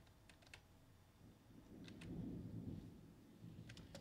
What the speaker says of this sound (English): Pretty sure that was thunder outside.